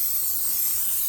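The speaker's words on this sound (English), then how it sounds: "Spraying that with some vegetable spray." Vegetable cooking spray misted onto a baking dish for lasagna, a single brief close hissing spray burst held steady for about a second.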